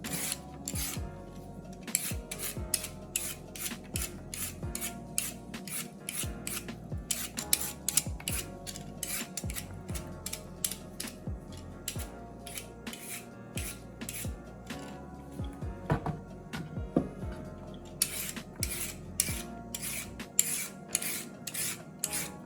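Carrots are chopped for red pea soup, producing quick, rhythmic knife strokes against a cutting board in fast bursts with brief pauses, close and fairly quiet, with no talking.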